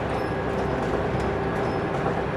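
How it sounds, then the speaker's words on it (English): A train running at high speed through the Australian outback, a steady dense roar of wheels and rail noise with a faint tonal hum, continuous and loud throughout. "Maybe this is the last drive this train driver's doing, and he's just giving it the herbs"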